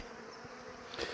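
Honeybees buzzing around an open hive during a beekeeper's inspection, a soft steady hum close by for a brief moment.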